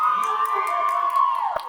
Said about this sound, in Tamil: அதை சொன்னாதான்ப்பா அந்த கைத்தட்டு வருது